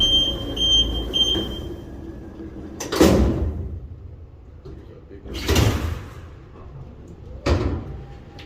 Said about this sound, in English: It's got a nice motor.